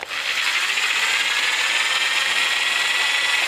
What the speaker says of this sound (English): So now I'm going to take my drill and then I'm going to start it.